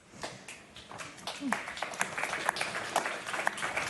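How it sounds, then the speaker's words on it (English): Scattered audience clapping at an Arctic security address, sparse individual claps building into a modest round of applause in a large hall, with faint voices underneath. "It's okay, you can clap. We love claps. We love applause."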